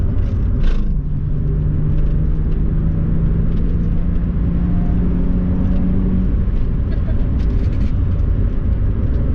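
A Chrysler Crossfire's engine drones loudly and steadily after a downshift while driving at about 50, with a sustained low hum over road rumble and a slight pitch shift partway through.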